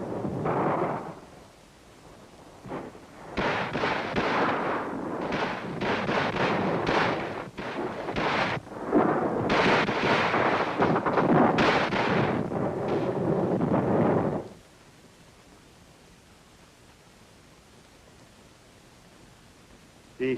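Prototype M16 rifle firing, a dense run of loud sharp bursts over about twelve seconds that then breaks off into quiet background noise.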